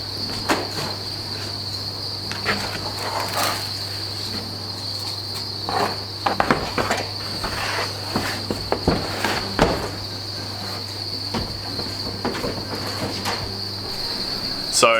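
Crickets in a cricket farm breeding bin: a dense, continuous high chirping drone, close and steady, with light rustling and handling noises as soil is added.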